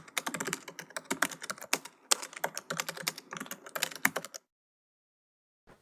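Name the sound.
typing a group name on a computer keyboard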